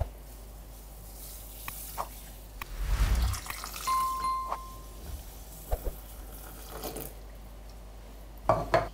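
Water mixed with a splash of apple cider vinegar is tipped over psyllium husks in a kitchen, a brief close splashing pour followed by light clinks and drips from the bowl and utensils.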